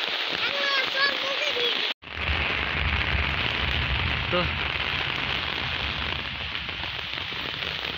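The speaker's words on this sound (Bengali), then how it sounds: "এই টিনের চালে বৃষ্টির শব্দ, ঝমঝম শব্দটা এত ভালো লাগে আমার।" Heavy rain drums on a tin roof in Joypurhat with a dense, constant roar, close and loud, while a voice speaks briefly over it and a short cut interrupts early on.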